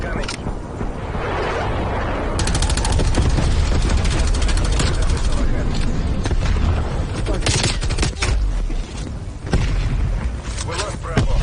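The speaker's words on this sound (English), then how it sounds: "Napalm strike incoming." Dense, loud gunfire and booming explosions from a napalm strike fill a Call of Duty: Black Ops Cold War match, with rapid rattling bursts throughout and voices barely emerging beneath the barrage.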